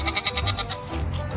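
A goat gives a quick, pulsing bleat of about six rapid wavering beats, loud and close, followed by a softer trailing cry.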